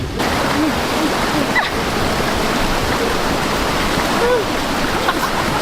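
Steady rushing river water fills the whole clip with a constant broadband hiss, flowing close by, plus a few faint chirps above it.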